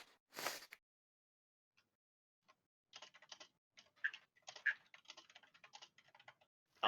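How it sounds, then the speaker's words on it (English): Computer keyboard typing in the background of an online tabletop game session, heard as a faint, irregular run of quick clicks and taps after a louder burst at the start, with no one talking. "Keyboard bashing I hear in the background?"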